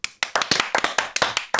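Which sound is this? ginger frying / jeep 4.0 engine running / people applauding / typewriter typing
people applauding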